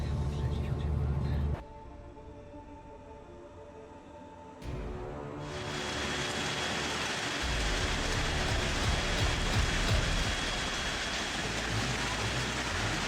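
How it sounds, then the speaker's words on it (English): A heavy downpour driven by strong winds roars as a dense, steady hiss that fills the scene. It swells louder after a brief quieter stretch, and a voice speaks over part of it. "The heavy downpour, accompanied by strong winds, turned the sky into a sea of white rain"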